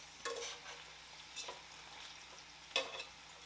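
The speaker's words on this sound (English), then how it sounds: "give my shrimp a mix" Shrimp being mixed in a pan, a quiet background sizzle broken by three short scraping stir strokes, no voices.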